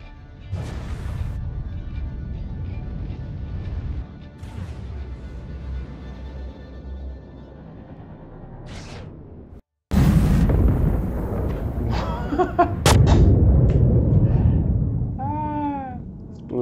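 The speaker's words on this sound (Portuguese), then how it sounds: "Explodiu as duas." A spaceship rams two Origin 600-class ships in Star Citizen, with a rumbling engine drone before a sudden loud crash and explosion at mid-clip, then heavy roaring debris and rising whines afterward.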